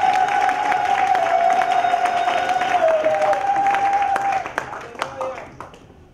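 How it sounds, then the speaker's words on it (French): A church congregation at an Easter evening service claps and cheers for the Lord, a full, steady burst of applause with a sustained voice or tone over it, thinning into scattered claps toward the end. "Est-ce que nous pouvons donner une forte main d'acclamation pour le Seigneur?"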